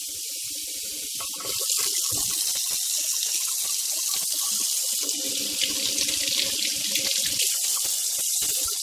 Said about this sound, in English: give your faucet a test.